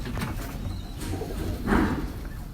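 Pigeons cooing in a Lahore loft in Wassanpura, moderately close, with low, throaty murmurs running steadily and a brief louder swell near the end.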